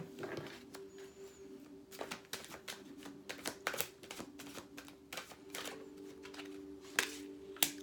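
Oracle cards shuffled by hand at close range, soft and quiet, with irregular bursts of riffling and tapping and a faint steady hum behind.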